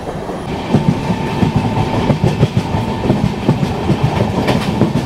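A Rajdhani Express, hauled by a WAP7 locomotive, rolls steadily around a sharp curve, with a continuous rumble and a rhythmic clickety-clack of wheels over rail joints, heard from on board.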